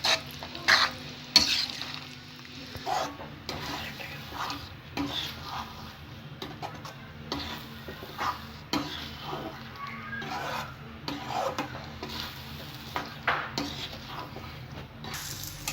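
Egg and avarekalu beans stir-fried on a low flame, with a soft steady sizzle and repeated rasping scrapes of a spatula on the pan, close and fairly quiet throughout.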